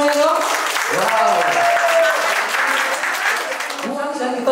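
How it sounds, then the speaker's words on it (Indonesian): Audience applause at an 18th anniversary company event in Indonesia, dense clapping throughout with cheering and a voice calling out over it. "ya tepuk tangan dulu untuk semuanya dong"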